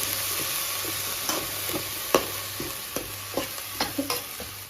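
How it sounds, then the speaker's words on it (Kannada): Shrimp frying in a pan, continuous sizzle with repeated sharp scrapes and knocks of a spatula stirring at irregular intervals, fairly close and with no talking. "ಆ ಸಿಗಡಿ ಮೀನ ಹಾಕಬೇಕು ಹಾಕ್ಬಿಟ್ಟು ಚೆನ್ನಾಗಿ ಫ್ರೈ ಮಾಡ್ಕೊಳ್ಳಿ"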